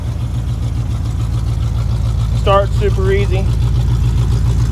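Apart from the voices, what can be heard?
Chevrolet Suburban engine idling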